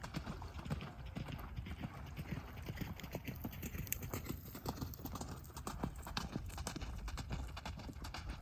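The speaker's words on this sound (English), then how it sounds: "Look, here we go. We've got horses." Horses walk along, their hooves clip-clopping in a steady, uneven rhythm at moderate distance, with faint background noise and occasional soft voices.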